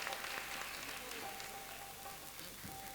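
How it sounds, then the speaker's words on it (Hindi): Applause from an audience at a large religious gathering in Uttarakhand, a dense, steady patter of many hands clapping at moderate distance, fairly even throughout with a faint tone running underneath. "जोरदार तालियों से स्वागत इनकी मेहनत के लिए।"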